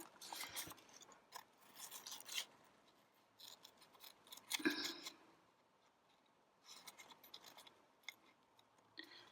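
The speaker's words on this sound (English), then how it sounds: "Let's quickly snip this out." Scissors cut out a card panel for a Christmas card craft project: several clusters of crisp close snips and rustling paper, separated by brief quiet pauses.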